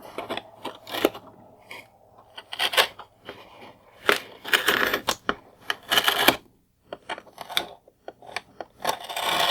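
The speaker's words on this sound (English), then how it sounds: "Go ahead and just cut the tape around the box holding the figure in." Blade or scissors cut through packing tape around a GI Joe Steel Crusher APV toy box, a close run of irregular sharp snips, rips and crinkles with short pauses between strokes.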